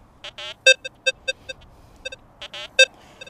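A Rutus Versa metal detector sounds over a nail, giving a string of sharp electronic beeps and short pulsing tones in irregular bursts, close and clear against a quiet background.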